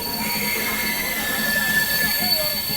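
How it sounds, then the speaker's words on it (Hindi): The Amrit Bharat Express 13698 pulls out of Old Delhi railway station, a steady rolling rumble laced with thin high metallic wheel squeals, loud and close, with a voice talking over it. "अब अपनी ट्रेन निकली है ओल्ड दिल्ली रेलवे स्टेशन"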